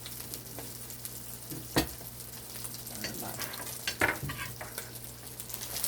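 Herring sprats crisping in hot oil, Jamaican-style, give a steady close sizzle with crackling pops and a couple of louder spatters, no voices over the frying.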